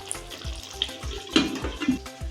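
Garlic curry, poondu kulambu, bubbles in a pot: thick, repeated low plops and glugs in an uneven rhythm over a faint hiss, close by and without speech.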